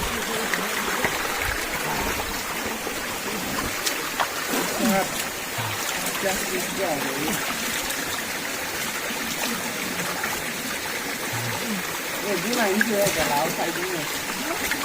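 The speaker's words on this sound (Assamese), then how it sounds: "এইখিনিতে এটা সৰু জুৰি চাওকচোন" A small mountain stream runs steadily through the whole stretch on a trek at Tumjang in Dima Hasao, Assam, giving a continuous broad rush and trickle of water with occasional splashes, while people talk intermittently nearby.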